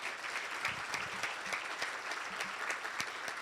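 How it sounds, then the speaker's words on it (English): Steady audience applause at a Rotary luncheon honoring a woman in the military, a dense even patter of many hands clapping at moderate distance, with no talk over it. "Let's give her a big round of applause."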